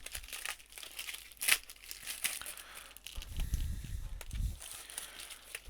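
Close-up crinkling and tearing of plastic packaging, with irregular rustles and a few sharp rips, fairly quiet with no talking.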